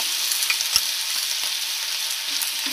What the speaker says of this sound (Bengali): পেঁয়াজটা ভাজা হয়ে গেছে, এখন বেটে রাখা আদা আর গোলমরিচটা দিয়ে দেব